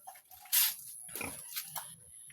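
A pig stuck in mud grunts and snorts a few times up close, with short rough bursts and some rustling in between.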